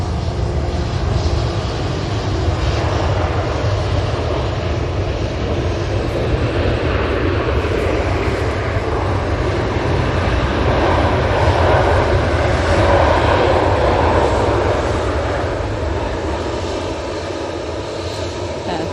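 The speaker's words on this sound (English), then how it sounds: "Gulf Dreamliner is from Bahrain." A Gulf Air Boeing 787 Dreamliner from Bahrain passes at Manchester airport, its engines a broad, continuous roar that swells toward the middle and eases off slightly at the end, with no talking.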